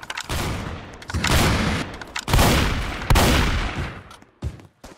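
Gunfire rattles in the Roblox shooter Strucid, coming in several loud rapid bursts separated by brief gaps, each volley cutting off sharply before the next begins.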